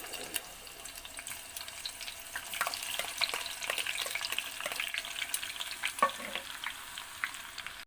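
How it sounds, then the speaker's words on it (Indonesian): Sliced garlic frying in a pan while making Surabaya-style chicken soto, a steady close sizzle with scattered crackles and pops, no talking. "bawang putih yang tadi kita sisain, yang udah kita iris, kita goreng pemirsa"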